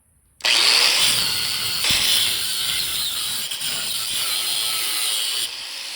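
A power tool grinds a copper Abraham Lincoln figure smooth, starting abruptly with a loud, steady high-pitched whine and rasping grit that holds for about five seconds before dropping off, with no talking.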